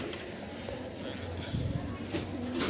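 Pigeons kept for sale coo softly near a noisy, steady background hum, with a few faint calls toward the end.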